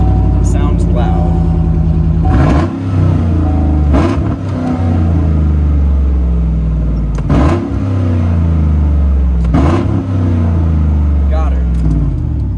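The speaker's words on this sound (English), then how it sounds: "We'll do a little startup as well because this thing sounds well, it's not quite my favorite, but it sounds loud." A loud 2015 pickup truck engine idles with a steady low rumble, several sharp revs swelling up and dropping back across the clip, with a voice talking over it.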